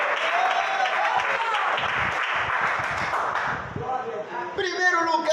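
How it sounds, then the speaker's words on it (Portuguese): A church congregation at an evening service claps and praises together, a dense burst of hands mixed with voices calling out that fades after a few seconds as singing or shouting rises. "A igreja glorifica e bate as palmas para Jesus desta noite"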